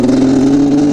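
An abused, poorly running Yamaha Banshee engine revving at full throttle, a loud, close, sustained buzzing tone held steady for a second before trailing off.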